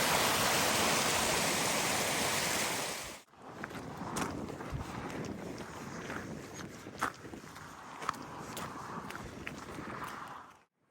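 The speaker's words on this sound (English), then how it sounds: "One advantage of the rainfall is you get some lovely waterfalls." Loud rushing waterfalls swollen by heavy rain roar for a few seconds, then give way to quieter outdoor sounds with crunching footsteps and a soft background flow, near Glencoe and Kinlochleven.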